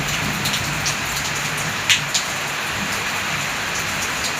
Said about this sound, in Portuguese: Chuvinha aí logo cedo, de manhãzinha.